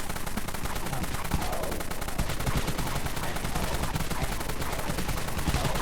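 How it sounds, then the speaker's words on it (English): A Dusk minigun in the video game Dead Frontier fires continuously in a rapid, dense stream of shots, loud and unbroken throughout. "But you're able to kill with the Dusk minigun."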